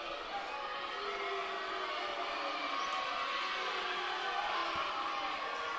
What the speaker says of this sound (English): And now we're starting to get booing from the crowd.